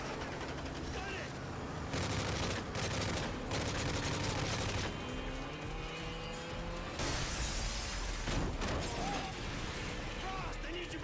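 Sustained gunfire rattles through a video game battle with dense machine-gun volleys and bursts, mechanical clanks, and louder surges around the second and seventh seconds. Voices are heard through it.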